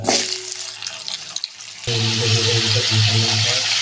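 Washed, cut potatoes tip into a wok of hot oil seasoned with nigella seeds: a quieter crackle first, then a sudden loud, continuous close-up sizzle once they hit the oil.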